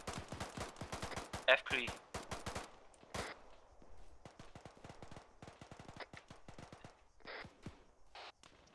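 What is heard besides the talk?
gunfire from a video game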